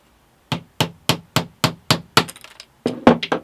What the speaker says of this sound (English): So let's drive a nail through this and see what happens.